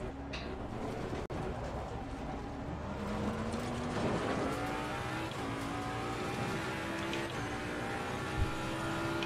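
Race car engine from Assetto Corsa Competizione in a multiplayer race, holding a steady drone with rising gear pitches as it accelerates, continuous and fairly loud, with faint voices occasionally under it.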